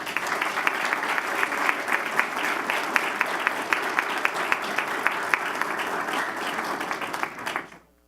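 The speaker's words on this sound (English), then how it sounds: "please help me give a round of applause" An audience at a school district board of trustees meeting gives steady, sustained applause for the transportation department's award, dense clapping that fades out at the end.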